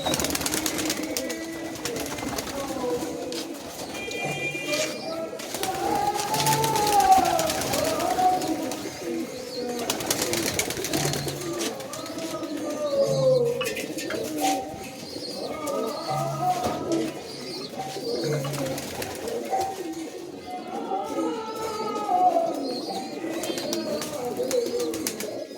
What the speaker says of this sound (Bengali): সব পায়রা খেতে দেওয়া হচ্ছে।